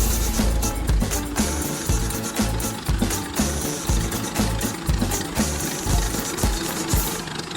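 An old Fordson-Putilovets tractor engine of about 20 horsepower runs in the fields. It makes a loud, continuous rhythmic knocking and clattering with a steady mechanical pulse. The engine is close and dominant, and there is no talking.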